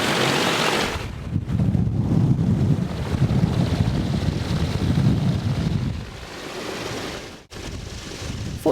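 Strong squall wind roars across a sailboat in Force 8 conditions with gusts near 36 knots, a loud, steady buffeting rush over the microphone with water noise beneath, easing briefly near the end.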